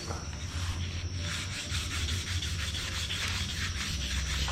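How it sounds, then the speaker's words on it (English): Continuous rhythmic sanding scrapes across hardened body filler on a car body, close and steady, with no voices. "Sanding out pretty nice."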